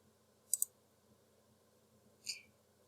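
Two sharp mouse clicks sound in a quiet room, a quick double click near the start and a single click about two seconds later.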